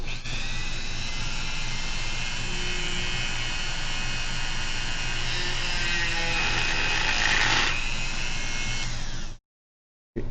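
A Dremel rotary tool spins at 10,000 RPM, melting into plastic, a steady high-pitched whine with a gritty grinding edge that rises briefly near the end before cutting off abruptly.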